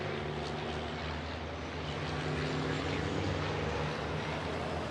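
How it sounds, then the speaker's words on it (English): Racing truck engines roar steadily on a warm-up lap at the Most circuit, turbos spooling, a continuous droning rumble heard at a distance without speech. "You can hear the turbos spooling, the engines roaring as they make their way around the warm-up lap"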